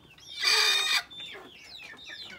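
A broody hen in a nest gives one loud, close squawking cluck, followed by softer, scattered clucks and calls.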